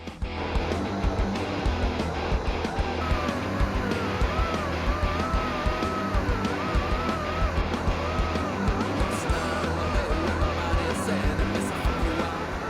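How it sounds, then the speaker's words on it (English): Air compressors running in a workshop during port matching of an engine manifold spacer, a loud, steady droning hum with a faint fluttering pulse that carries unbroken throughout. "Fire up the air compressors"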